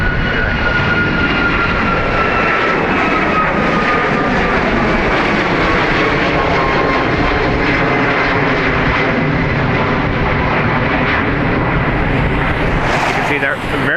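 A fixed-wing airliner climbs out after takeoff at Dublin Airport, its jet engine roar loud and steady throughout with a broad rumbling wash; a voice speaks over the engine noise.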